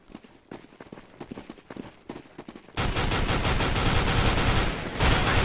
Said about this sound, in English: No, stop shooting at me.